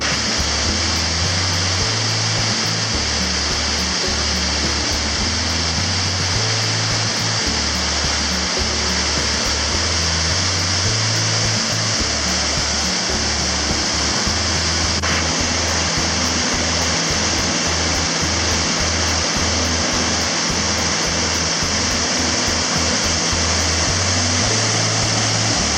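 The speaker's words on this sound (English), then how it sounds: "I can see the waterfalls through there, and I'll just head down to them." Ripley Falls in the White Mountains, a steady roaring rush of falling water heard close by, a broad unbroken hiss and low rumble that holds constant throughout with no voices.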